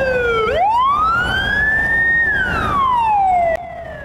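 Siren of a police escort vehicle wailing loud and close, rising in pitch, holding, then falling away before cutting off abruptly near the end.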